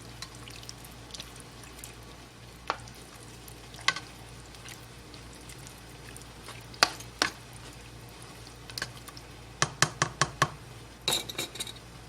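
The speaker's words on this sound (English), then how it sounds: "Then we just stir this around. Just stir it up." A spoon stirs spaghetti sauce in a pot over a steady low background hum, with soft scraping and a few sharp clinks against the pot, clustering near the end, close by with no talking.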